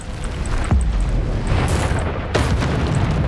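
Descendo spell effects in Hogwarts Legacy, two heavy booming slams about a second and a half apart, each with a bright crackling burst, over a rumbling game background with faint chiming tones.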